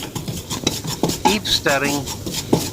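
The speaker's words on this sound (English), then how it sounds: "Roast the chickpea flour very well, stirring constantly till the color changes" Chickpea flour roasting in a pan is stirred continuously, a soft rasping scrape with a repeating rhythm, heard up close under a speaking voice.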